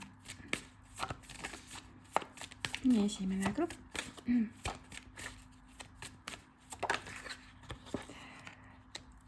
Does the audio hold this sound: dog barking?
no